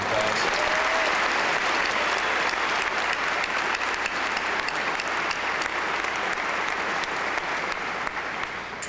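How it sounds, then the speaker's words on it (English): A graduation ceremony audience at Carmel High School applauds a technology teacher in a steady, dense wash of clapping that holds strong for the full stretch with no talk over it. "Can we give him a round of applause?"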